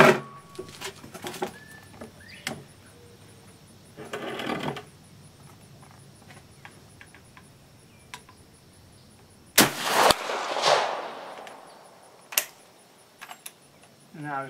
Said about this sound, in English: So, we'll fire a couple rounds in single shot.